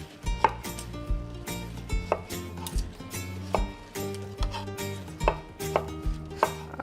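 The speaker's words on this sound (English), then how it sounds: "We'll slice some strawberries." A knife slicing strawberries on a cutting board, a series of regular close knocks on the board about every half second with soft cutting sounds between, no talking.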